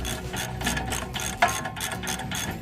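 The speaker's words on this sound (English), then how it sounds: "Seems like my ratchet is stuck." A ratchet wrench works a tight crown nut on the lower ball joint of a 1999 Toyota Tacoma, a run of rapid clicking strokes close by with one sharper metallic snap midway.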